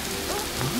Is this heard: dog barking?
no